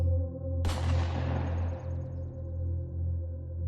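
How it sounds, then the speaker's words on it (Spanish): A single sharp gunshot cracks out, followed by a long fading echo, over a constant low droning hum. "un disparo sonó."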